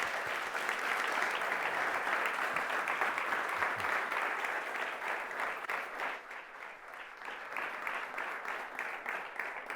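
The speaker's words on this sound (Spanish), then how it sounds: "Le agradecemos con un aplauso a Vladimir." Audience applause at a Spanish-language talk on Nikola Tesla, steady and sustained from start to finish, dense clapping of a fairly large crowd in a hall, thinning slightly toward the end.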